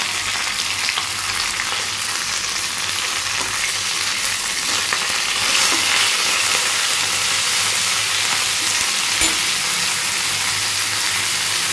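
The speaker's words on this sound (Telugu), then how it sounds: "ఇది ఫ్రై అవుతుంది. ఇవి ఫ్రై అయిపోయినాయి. అందులోనే మనము ఈ ఆకుని వేసి" Moringa (drumstick) leaves fry in a hot pan with a loud, steady hiss and sizzle, broken by scraping from stirring, close up and with no talk.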